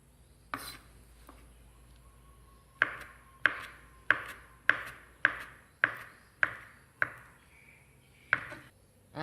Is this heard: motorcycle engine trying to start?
no